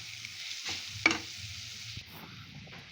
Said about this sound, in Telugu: 1 టేబుల్ స్పూన్ ధనియా పౌడర్, 1/2 టేబుల్ స్పూన్ జీలకర్ర పొడి వేసి స్టవ్ని లో ఫ్లేమ్లోనే పెట్టుకొని బాగా మిక్స్ చేయండి